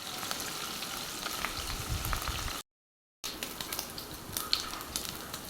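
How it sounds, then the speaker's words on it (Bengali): Marinated beef fries in a pan with a steady, moderately loud sizzle and crackle, broken by a brief silence partway through before the frying resumes. "এখন এই বিফগুলোকে একটু ভেজে নিতে হবে ভালো করে,"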